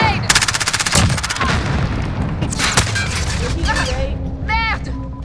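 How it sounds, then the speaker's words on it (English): Grenade blast and bursts of automatic gunfire in a first-person military shooter game, loud rapid rattling shots at the start with a heavy explosion and further shots and electronic game effects following, players talking over the action. "Throwing grenade!"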